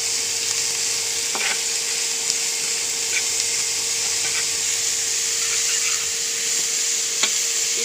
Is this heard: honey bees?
no